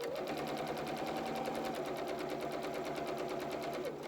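A sewing machine runs steadily while stitching a fabric frill along a straight edge, a close, fast, even needle rattle holding for the full stretch with no pauses or voices.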